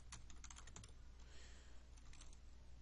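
Quiet keystrokes from a computer keyboard while entering a search into Google Sheets, a quick irregular burst of clicks, a pause, then a few more taps, close and soft with no talk.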